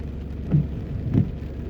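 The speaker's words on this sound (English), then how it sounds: "The rain is picking back up again" Rain falls steadily over a flooded gully in Jamaica, a soft continuous wash with a couple of brief louder surges.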